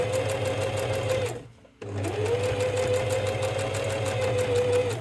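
Sewing machine stitching fabric for a plant pot holder with a 1 cm seam allowance: a steady close mechanical whir that stops briefly and then resumes at the same even pace.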